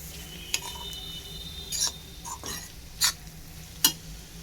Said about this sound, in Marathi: आपण कांदा तिखट मिक्स करून घेऊया.